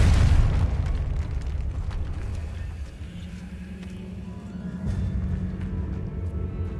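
Confringo fire spell explosion in the video game Hogwarts Legacy: a loud, booming blast at the start that decays into a rumbling tail, followed by quieter low ambient game rumble.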